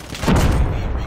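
Gunfire in Call of Duty Mobile, Vietnam-themed multiplayer: a brief, dense burst of in-game shots and booms fills the moment, loud and close.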